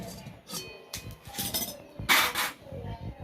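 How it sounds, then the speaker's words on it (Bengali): Clattering metal knocks and a bright clink ring out as a wok is set on a stove in a home kitchen, a few scattered close hits with faint rustling between. "কড়াই বসিয়ে দিলাম"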